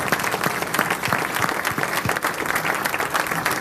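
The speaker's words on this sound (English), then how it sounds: "Round of applause." A room of people applauds, a dense, continuous patter of clapping at steady volume throughout.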